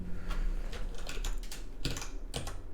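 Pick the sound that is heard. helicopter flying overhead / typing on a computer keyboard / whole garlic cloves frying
typing on a computer keyboard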